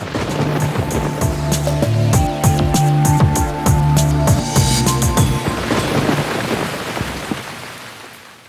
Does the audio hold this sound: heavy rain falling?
yes